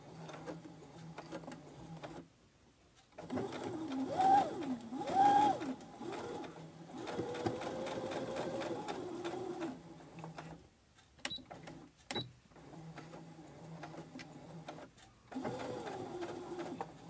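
A sewing machine stitches a fabric tote bag made from Harry Potter print fabric, running in several steady whirring bursts of a few seconds each, separated by short pauses and a few light clicks, close and fairly loud.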